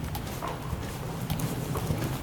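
Horse hooves clip-clopping on arena footing under a rider, a steady soft rhythmic thudding running through the whole stretch at moderate closeness, with no talk over it.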